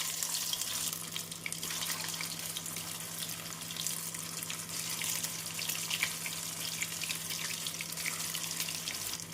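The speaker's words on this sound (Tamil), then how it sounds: "எண்ணெய் சூடானதும் கோலாவை போட்டு விடலாம்." Meal maker kola balls fry in hot oil with a steady, soft bubbling sizzle and faint crackle, continuous and close, with no talk.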